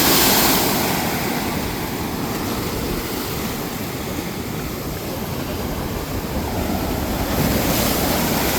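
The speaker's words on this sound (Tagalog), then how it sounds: "Grabe laki ng alon, no?" Big ocean waves crash and roar continuously along the Davao Gulf shore, a loud, dense wash of surf with heavy wind buffeting the microphone and a swell near the end.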